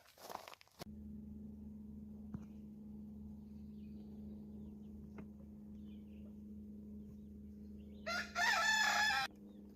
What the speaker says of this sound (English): Those are our baby chickens